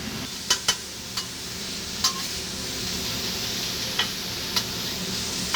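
Food sizzles steadily in a hot pan, with occasional sharp clicks of a utensil against the pan.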